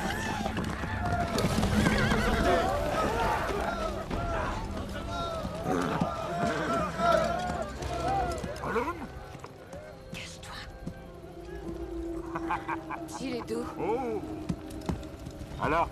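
A horse neighs and whinnies repeatedly among clopping hooves in an outdoor film scene from the Mongolian steppe, the animal sounds loud and close while people speak over and around them.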